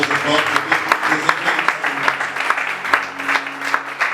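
A church congregation applauding, with dense, steady clapping that fills the space. A voice and crowd sounds mix in beneath the claps.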